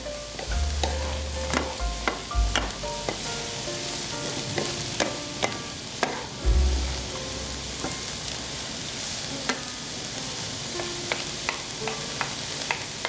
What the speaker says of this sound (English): Let these saute for 3 to 4 minutes.